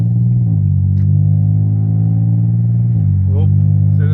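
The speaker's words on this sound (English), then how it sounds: "So let's start the car and let's drive the car and see what the car do." An Infiniti G35 with a P1716 speed sensor fault drives along, its engine holding a steady low drone that dips in pitch around two points. A voice speaks over the continuous engine note.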